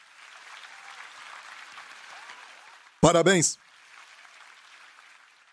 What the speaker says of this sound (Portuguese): Dê para si mesmo um grande aplauso, igreja.